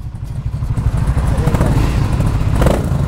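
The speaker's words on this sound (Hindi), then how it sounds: "हिमालयन में जो एग्जॉस्ट है आपको लग रहा है स्टॉक है, पर ये स्टॉक नहीं है।" Royal Enfield Himalayan motorcycle fitted with an aftermarket exhaust revving up close, a loud, continuous engine rumble with rising throttle blips and some clatter.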